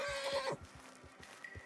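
A horse in the video game Red Dead Redemption 2 whinnies loudly for about half a second, followed by soft rhythmic hoof thuds and faint background sound.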